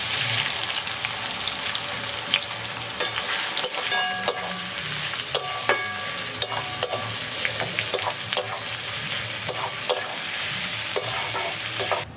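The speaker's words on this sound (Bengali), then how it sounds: "পেঁয়াজটা হালকা ভেজে নিয়ে" Chopped onions fry in oil with sugar and bay leaves, giving a loud, constant close sizzle with frequent sharp ladle clicks and scrapes against the pan as they are stirred. No one speaks.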